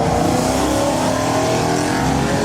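A BMW M4 at a car meet, its engine producing a loud, continuous, raspy roar that stays close and dense throughout.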